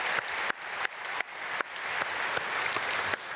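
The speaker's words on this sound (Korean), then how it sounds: "우리 사랑하는 자녀들에게 박수로 축복하겠습니다." A church congregation at a dawn prayer service in Myungsung Church claps in blessing for its children, a steady wash of applause with sharp accented beats about every half second, with no one speaking over it.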